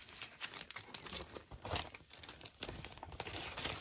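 Acetate packaging crinkles and crackles as it is handled close by, with a run of quiet irregular rustles and small snaps.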